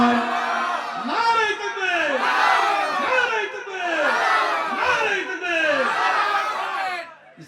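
A large crowd answers a takbir call with loud, rhythmic shouts of Allahu Akbar, repeated in several surging waves of massed voices.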